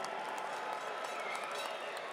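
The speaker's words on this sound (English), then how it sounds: "how about a huge round of applause for both of these warriors here in the ring" Steady crowd applause and cheering for two featherweight boxers in the ring after their bout, a continuous dense wash of clapping with no break.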